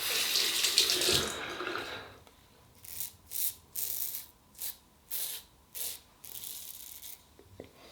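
A razor is rinsed under a running bathroom tap. A steady rush of water is followed by a run of short, evenly spaced splashing bursts, close and moderately loud.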